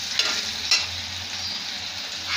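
Kachu leaves sizzle and crackle in hot oil in a wok as they are stirred, giving a steady, close frying hiss with a couple of sharp scraping stirs.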